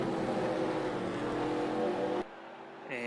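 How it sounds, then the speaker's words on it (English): Race car engines at Eldora Speedway rumble loudly and steadily on the pace lap in a dense, continuous roar, then cut to a quieter lull before revving back up near the end. "Engines are fired. We make the pace lap for heat race number 1"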